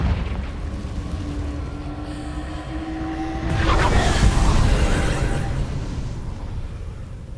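A Confringo fire spell detonates in the Hogwarts Legacy video game: one deep, rumbling boom swells midway through and lingers for a couple of seconds over steady game ambience.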